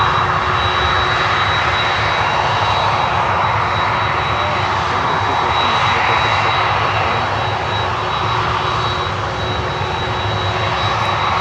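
Loud, steady roar of a DHL cargo airplane's engines on a runway, a dense continuous rumble and whine holding near and constant throughout with no voices.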